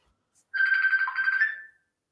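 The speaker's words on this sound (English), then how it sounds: "Oh, yes, he's got a phone call." A phone ringtone chimes during a live kriya yoga Q&A session, a single steady electronic melody lasting about a second, loud and clear against an otherwise quiet room with no talking.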